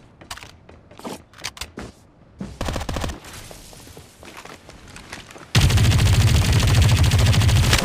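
Gunfire in the battle royale shooter Farlight 84: bursts of rapid automatic shots and single cracks, then a loud, sustained stream of fire that dominates the end.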